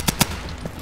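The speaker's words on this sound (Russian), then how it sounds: "Там вот стрельба идет уже какая-то." Distant gunfire from the tactical shooter game Insurgency, two sharp shots in quick succession against steady background noise, with a fainter pop after them.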